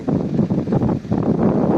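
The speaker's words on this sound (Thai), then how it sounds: "ลมแรงมากครับ เย็นสบายเลยครับ" Strong wind gusts across open rice fields, buffeting the microphone in loud, rumbling waves that dip briefly before surging again.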